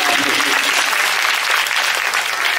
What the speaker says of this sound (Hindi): तो हमरे हमारे सिस्टर मैडम के स्वागत करी ला जोर से ताली बजे कंजूसी नहीं